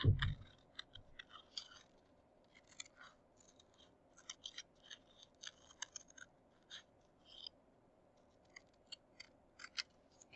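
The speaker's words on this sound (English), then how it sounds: "I'm going to cut that out." Scissors snipping through paper to cut a tessellation shape, a steady run of small crisp clicks and snips up close, fairly quiet and with no one talking.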